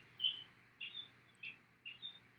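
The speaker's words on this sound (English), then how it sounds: "just like that bird" Faint, high bird chirps come in four short bursts spread across a couple of seconds, with a low steady hum beneath them and no voices.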